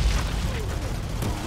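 Artillery explosions in the Outriders shooter game, a deep booming blast at the start rolling into rumbling noise, with a second burst near the end.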